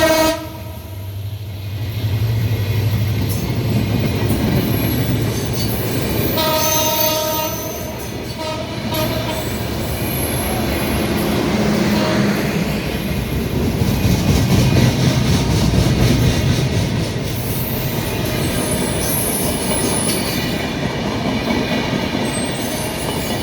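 A trial special passenger train running from Dhaka toward Khulna on the Padma Bridge rail link roars past loudly, horn blaring and wheels rumbling and squealing in a sustained, close clatter.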